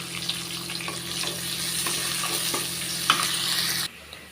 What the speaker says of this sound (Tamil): வெங்காயம் கருவேப்பிலையும் நல்லா வதங்கட்டும்